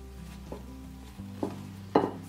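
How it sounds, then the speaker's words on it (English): Quick stirring of fruit, marshmallows and coconut in a Pyrex bowl, a few soft scraping knocks of the spoon against the glass, close and fairly quiet, with no talking. "I'm just gonna dump in all my fruit, my marshmallows, coconut. I'm gonna give that a quick stir."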